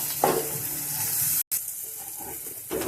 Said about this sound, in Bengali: সব মশলাগুলো 1 মিনিটের জন্য একটু ভালো করে কষে নেব।